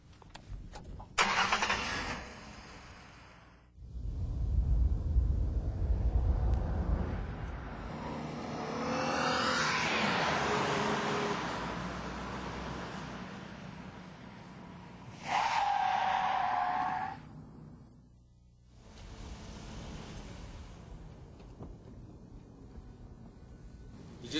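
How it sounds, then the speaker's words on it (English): Car braking hard from 35 mph and skidding on pavement: a loud engine surge gives way to a long tire screech, followed by further engine and tire noise with one sharp squeal and a falling rumble. "That's when you'll hit the brakes to stop as quickly as you can."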